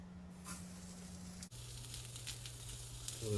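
An ahi tuna steak sears in a preheated hot pan, giving a steady close sizzle and crackling hiss that runs unbroken with no voices.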